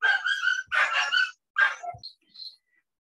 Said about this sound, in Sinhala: බල්ලගේ ඉතින් පොඩ්ඩක් සද්ද වැඩි වුණේ